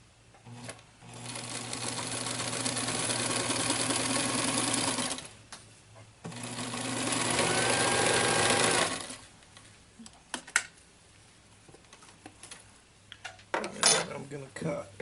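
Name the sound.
sewing machine stitching top edge of denim pouch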